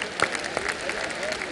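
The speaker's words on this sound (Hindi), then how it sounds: "थोड़ी तालियां हो जाए" Audience applause at a film festival opening ceremony in Goa, a fairly faint spread of clapping under an amplified voice on stage.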